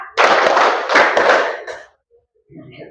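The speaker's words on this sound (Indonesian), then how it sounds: "Tepuk 1, tepuk 2, tepuk 3, tepuk 4" A run of hand claps counted out one by one during a teacher coaching session, dense and close for about a second and a half, then a quiet gap and faint trailing noise.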